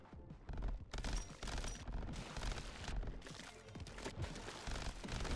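A burst pistol firing in Crab Champions: rapid, dense volleys of sharp shots crackle nearly nonstop over a loud, busy game soundscape.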